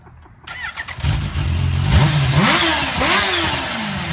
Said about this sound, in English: That's the H2. Start and rev.